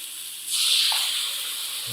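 Water drizzled along the sides of a hot stir-fry pan of cabbage and olive oil bursts into a steady steaming hiss that swells after a quiet start and then holds close and loud.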